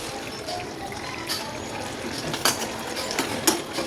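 A utensil stirs garam masala into sev tameta curry in a pan, giving soft wet scraping and a few light clinks against the metal, fairly quiet, with no talking.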